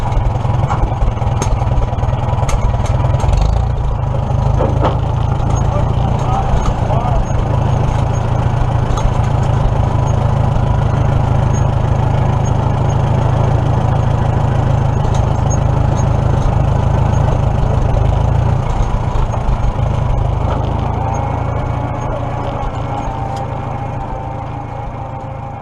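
Old 1938 Farmall F20 tractor engine running steadily with a loud, continuous low drone and mechanical clatter, close by, easing off slightly toward the end.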